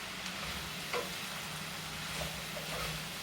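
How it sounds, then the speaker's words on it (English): Eggplant is stirred in a frying pan for ratatouille, with a steady quiet sizzle and a few soft utensil scrapes and taps, close and without speech. "Eggplant. You're going to stir."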